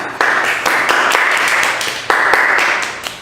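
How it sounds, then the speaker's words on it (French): A crowd applauds near a stage in two continuous bursts of dense, steady clapping with a short lull between them. The clapping is close and fairly loud, and no voices are heard over it. "Maintenant, les gens applaudissaient."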